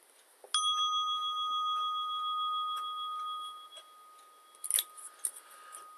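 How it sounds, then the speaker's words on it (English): A single bright meditation bell strike with a long, clear ringing tone that slowly fades, followed by faint light clicks near the end. "At the sound of the bell, we'll begin our meditation."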